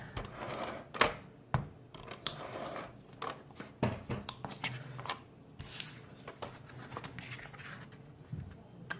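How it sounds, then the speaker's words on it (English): Small scissors snip paper in a scattered series of crisp, quick cuts, close and fairly quiet, with faint rustling between snips. "I'm going to have to get my little scissors"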